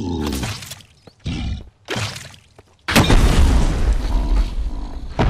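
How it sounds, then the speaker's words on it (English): Bazooka shots and explosions in the video game Mist Survival: two sharp bursts, then a loud, sustained blast with debris-like crackle. "Okay, two shots with bazooka, alright!"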